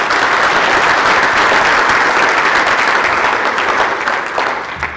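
A conference audience applauds the NCCP staff, a dense, steady wash of clapping from many hands that holds for about five seconds before tapering slightly at the end.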